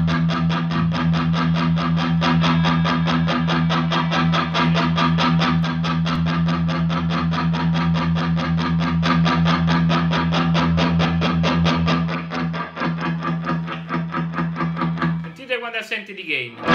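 Electric guitar driven through a Mooer Hustle Drive overdrive pedal in high power mode into a Marshall 1974x amp, a dense, loud, sustained distorted riff running continuously before cutting off, with a brief voice at the end.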